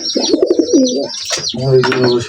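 Pet pigeons coo loudly and close by in a home loft, with low rolling coo phrases in two bursts and light chirps mixed in.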